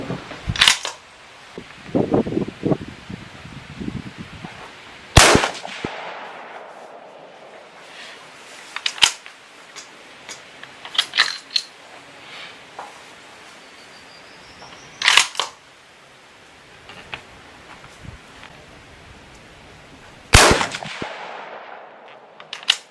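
Three-shot groups fired from a .243 Weatherby rifle with Remington Core-Lokt 100 grain ammunition at an outdoor range: loud, sharp reports spaced several seconds apart, with quieter handling clicks and rustling between them.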